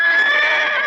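A voice actor imitates a horse whinny for a cartoon Great Dane, one loud, sustained, wavering neigh held steadily close to the microphone.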